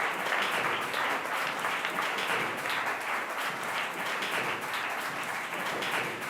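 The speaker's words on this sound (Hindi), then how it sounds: "मंच पर आमंत्रित है, दोनों को लिए तालियां।" A hall audience at an Arya Veer Dal Mumbai 50th-anniversary event claps for two students invited on stage. The applause is full and continuous throughout, with no voices over it.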